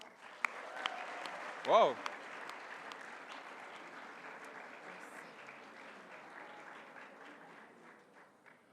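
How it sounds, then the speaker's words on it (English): Steady crowd applause for Algeria at the IPSF World Congress 2019 opening ceremony in Kigali, continuous clapping that slowly fades, with a brief exclamation from an announcer near the start. "Another big round of applause for Algeria"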